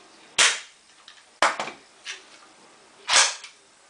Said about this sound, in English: the big advantage of all electric pistols is this: it will fire automatically, hence automatic electric pistol